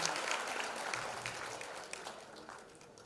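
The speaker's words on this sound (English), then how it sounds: "Welcome her with a round of applause." Audience at a foundation launch event applauds to welcome a guest on stage, a dense, steady clatter of clapping that fades slightly over about three seconds.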